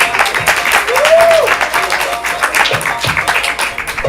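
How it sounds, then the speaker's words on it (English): Loud, sustained applause fills a ComedySportz improv comedy show in Portland as the audience claps steadily throughout, with a brief whistle-like tone rising early on. "let's give him a round of applause"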